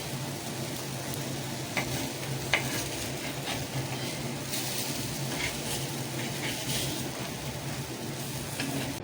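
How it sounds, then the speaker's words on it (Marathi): Dal vadas fry in hot oil as they are turned, a steady close sizzle with scattered stirring clicks and light scrapes of a utensil against the pan. "वडे असे वडे पलटी करून घ्यायचे, डाळीचे वडे"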